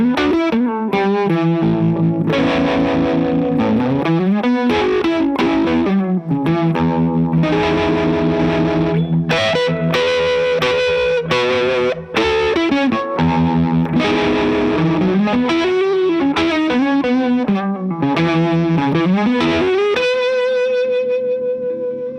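Electric guitar played through a Luscious amplifier with the harmonic tremolo and reverb switched on: continuous chords and riffs with a pulsing, wavering swell, loud and close throughout, no talking.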